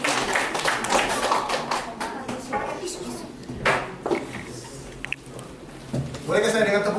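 An audience at a leadership training seminar claps in scattered bursts, with a fuller round of applause near the end, mixed with a speaker talking over a microphone.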